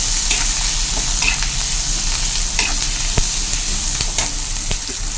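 Onions sautéing with green chillies in a pan for prawn curry, a loud continuous sizzle close up with intermittent stirring scrapes and clicks of a spoon, no voices.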